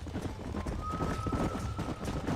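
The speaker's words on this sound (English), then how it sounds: "There's the horses!" Hooves clip-clop steadily across the ground in the game Red Dead Redemption, with several horses moving together, a brief whinny and a faint tone over a busy outdoor backdrop.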